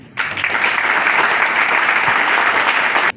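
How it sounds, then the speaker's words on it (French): A crowd at an association's installation ceremony bursts into loud, sustained applause, with dense clapping starting abruptly and holding steady for about three seconds before stopping sharply. "vous méritez une salve d'applaudissements"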